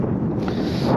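Wind buffeting a Hilleberg Anaris tent at a wild camp in the Lake District, a loud continuous rumbling gust that presses close on the microphone without a break.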